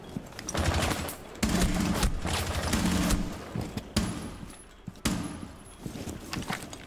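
P9 submachine gun fire in Rainbow Six Siege, several loud bursts of rapid shots separated by short pauses, close and sharp.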